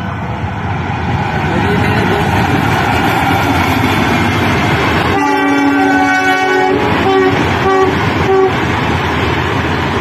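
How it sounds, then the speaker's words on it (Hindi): A train rolls in with a loud, continuous rumble of wheels on track, and midway a long blaring horn sounds, followed by a few shorter horn toots over the ongoing clatter. "ट्रेन आने का टाइम हो गया है, तो आप ट्रेन देख सकते हो इधर।"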